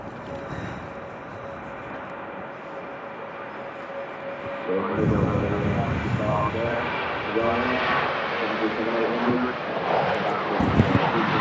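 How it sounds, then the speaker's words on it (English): A Ryanair airliner passes at Manchester Airport during the strong winds of Storm Darragh, its engine roar swelling midway over steady gusty wind noise while people talk nearby. "There goes the Ryanair."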